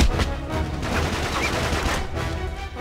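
Shotgun blasts in the game Uncharted 3 fire in close range during a firefight, several heavy bursts in quick succession, loud and dense.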